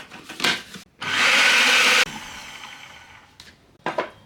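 Dry cracker ingredients including salt, sugar, monk fruit sweetener and rosemary are whirred briefly in an electric mixer, one loud steady burst of about a second between quieter handling noises.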